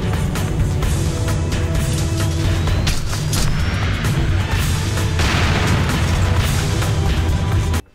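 Grenade blasts in the shooter game Alpha Prime, loud booming explosions rolling one into another with dense rumbling debris over about eight seconds, cutting off abruptly at the end.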